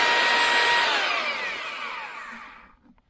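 An electric drill with a paddle whirs steadily as it mixes stampable concrete overlay in a bucket, loud and close at first, then fading and winding down to near silence by the end, with no talking.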